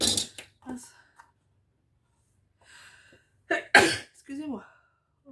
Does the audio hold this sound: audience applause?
no